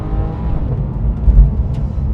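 A Porsche 911 GT3 of the 991.2 generation with a manual gearbox runs its engine with a loud, steady, close growl and a slight swell near the middle.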